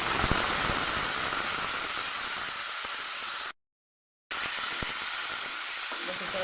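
Tomatoes and red chillies sizzle steadily in a hot pan for a Kathiyawadi tomato chutney, a loud, continuous hiss with a brief silent gap midway before the frying resumes.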